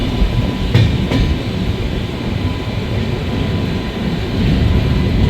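The 22202 Sealdah Duronto Express, from a first-class AC coach, gives a steady, loud rolling rumble with a couple of sharp clicks of wheels over rail joints and no voices.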